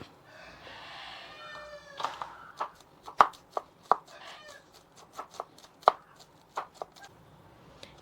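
A knife chops through a tender young plant shoot, giving a run of crisp, irregular strikes that are quiet at first and then sharper, with a few louder cuts standing out and no talking.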